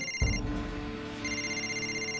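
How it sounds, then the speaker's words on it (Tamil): Telephone ringing during a call, a sharp tone followed by a sustained electronic ring with a bright, repeating pattern, heard alone without talking. "நான் சிவாக்கு ஃபோன் பண்றேன"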